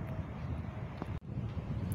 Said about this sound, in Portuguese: E o vento tá comendo solto.